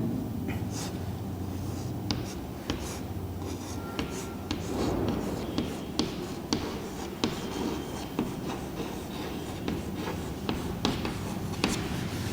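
Marker or chalk scratching across a classroom board during a lecture on p-block elements, a steady run of short strokes and taps against a low room hum, with no voice over it.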